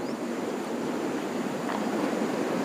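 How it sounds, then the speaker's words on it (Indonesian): A river swollen after overnight rain rushes along as steady, broadband flowing water, close and continuous throughout with no voices. "air sungai besar"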